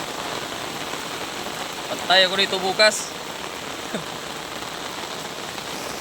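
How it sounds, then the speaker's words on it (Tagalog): Heavy rain pours on a farm at night in a dense, steady hiss, and a person speaks briefly under the downpour. "Grabing lakas ng ulan Kakuridas."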